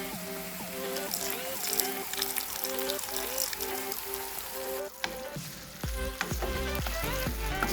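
Pork pieces with sesame seeds simmer in a pan with a little boiling liquid, giving a continuous soft sizzle and bubbling, with a stirring clatter partway through, then the sizzle carries on.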